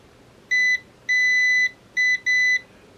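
A multimeter continuity tester on a walkie-talkie inductor gives four clear, high electronic beeps in an uneven rhythm, two short and two longer, near and loud over a quiet background.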